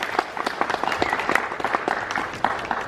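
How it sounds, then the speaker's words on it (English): Wedding guests applaud the couple, a full, close round of clapping from many hands that stays loud and even throughout. "Another round of applause for Liz and Karen."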